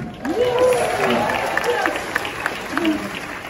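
Audience at a Hollywood Studios 35th anniversary celebration applauding, a continuous wash of clapping and crowd noise with a voice speaking over it.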